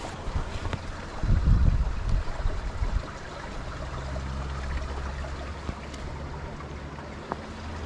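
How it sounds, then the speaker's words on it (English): Water trickling and gurgling unseen beneath loose boulders in a mountain rock field along a hiking trail, a steady low rush with wind buffeting the microphone, louder in a brief burst early on. "the noise of the water running into this rock field"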